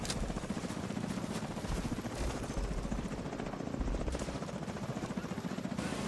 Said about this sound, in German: Da ist irgendwo Hubschrauber.